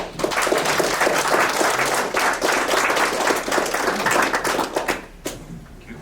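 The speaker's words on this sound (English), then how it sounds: "please join me in a round of applause to welcome up our speakers for today" A room full of people applauds to welcome speakers at an evening public talk, dense steady clapping sustained for about five seconds before thinning out and stopping.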